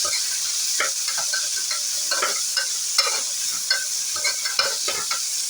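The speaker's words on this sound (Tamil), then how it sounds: "ஸோ வெங்காயம், பச்சை மிளகாய்லாம் ஆட் பண்ணிவிட்டோம். நல்லா மிக்ஸ் பண்ணிக்கலாம்." Chopped onions, green chillies and curry leaves sauté in oil for a potato kurma, a bright close hiss broken by quick, regular stirring strokes and scrapes of a spoon against the pan.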